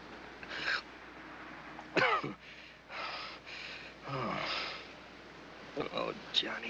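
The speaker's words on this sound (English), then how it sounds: "He's been keeping everybody awake with his coughing and wheezing." A man in the 1941 film The Face Behind the Mask coughs and wheezes, with several harsh coughing bursts and raspy breaths between them, close and moderately loud.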